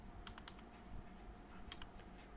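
Soft keystrokes on a computer keyboard as a command is typed in a Windows command prompt, a few quick taps in short clusters over a steady hum.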